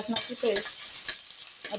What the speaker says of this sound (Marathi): लसणाची पेस्ट तेलामध्ये छान परतून घ्यायची